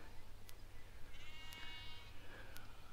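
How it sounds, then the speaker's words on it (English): Sheep and lambs bleat in a field near Cerne Abbas, Dorset, one wavering bleat rising faintly over steady low wind rumble, with a few soft taps and no voices. "Field full of sheep. Lots of lambs with their mummies."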